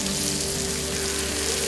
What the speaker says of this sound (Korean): 대리석 불판 위에서 지글지글